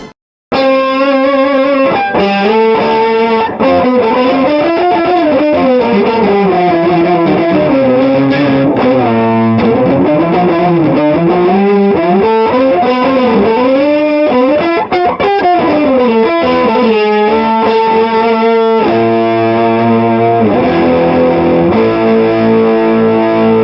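Electric guitar through a Digitech Mosaic 12-string effect with distortion added, a loud, continuous driven lead with sustained bending notes and a shimmering doubled, phaser-like modulation.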